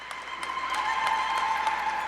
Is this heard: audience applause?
yes